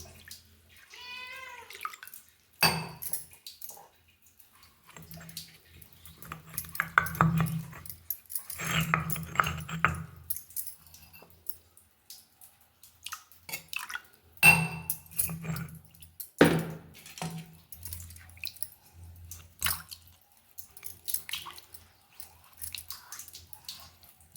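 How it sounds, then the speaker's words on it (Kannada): Water splashes and sloshes against a stone grinding mortar with scraping and rubbing sounds as it is washed out after grinding coconut chutney, in irregular bursts and pauses, close by and fairly loud. "ಇವಾಗ ತೊಳ್ಕೊಳ್ಳೋಣ ಸ್ವಲ್ಪ ನೀರು ಹಾಕಿ"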